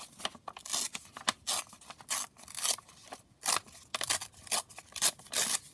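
Paper torn by hand for a junk journal, a series of short rough rips and crinkles in irregular bursts, close and quiet.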